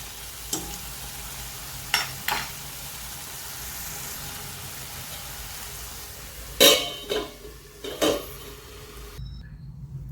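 Capsicum being cooked in a pan as sugar goes in: a soft, steady sizzle underlies several sharp metallic knocks of a spoon or lid against the pan, close by, with no voices.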